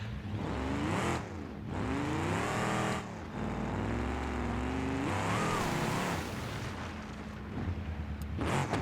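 A 2200-horsepower ramp truck in BeamNG.drive roars loudly, its engine pitch climbing and falling through repeated revs with short breaks between pulls, close and alone with no talk.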